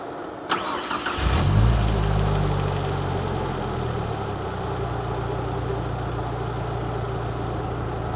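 Warm car engine cranking and catching after the ignition is turned on, a short click and whirring crank before it fires, then a brief rev that settles into a steady, low, even idle close by with no talking.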